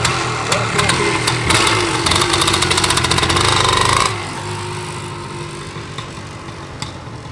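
A 1977 Suzuki PE250B motorcycle engine runs close by, a steady busy idle with a rapid ticking pulse for about four seconds, then dropping to a quieter, duller running sound under faint background noise.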